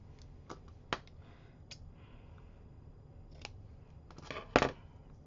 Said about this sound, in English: I'm going to cut off this extra.